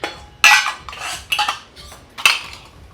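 Kitchen dishes and metal utensils clatter sharply in a few separate bursts, close and loud, with quiet gaps between clanks.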